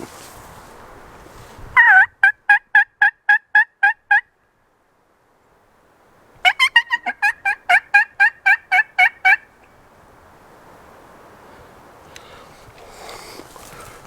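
Two loud bursts of rapid, rattling wild turkey gobbles from a tom in Mississippi, each a quick series of pulses, separated by a quiet gap, with faint background noise around them.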